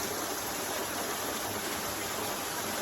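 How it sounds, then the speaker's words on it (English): A very tall waterfall at Shanklin Chine on the Isle of Wight gives off a steady, dense rush of falling water, close and continuous with no pauses. "currently by the waterfall at the Shanklin Chine, and look at that, absolutely amazing. A very tall waterfall as well."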